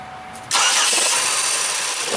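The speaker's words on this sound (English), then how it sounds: "Okay, we're going to start the vehicle." A Pontiac Grand Prix with a 3.8 engine and a stall and misfire fault starts up: a quiet lead-in gives way to a sudden, loud, steady broadband roar that holds without a break.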